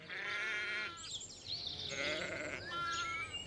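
Several sheep bleat one after another, wavering and fairly close, with a short quiet gap between calls.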